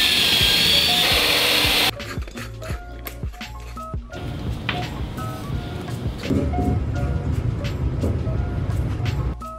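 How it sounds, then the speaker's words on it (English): A power drill bores holes into a metal focusing grid while mounting a light for a solar death ray, with rough whirring bursts and clattering knocks, a loud opening hiss, then grinding drilling that builds toward the end. "I then drilled a hole in the focusing grid to mount up the light."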